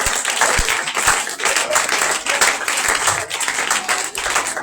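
A church congregation at a French-speaking Shavuot service applauds and cheers in acclaim of the Lord, with loud sustained clapping and crowd voices throughout.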